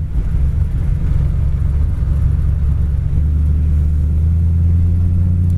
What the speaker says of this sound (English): Car also has headers and a great sounding dual exhaust.